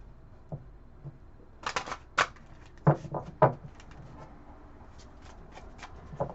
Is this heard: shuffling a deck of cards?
yes